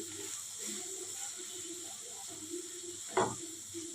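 A spiced chicken mixture with turmeric, cumin, garam masala and red chili powder cooks in a pan, giving a soft steady sizzle with faint stirring scrapes and one brief clatter.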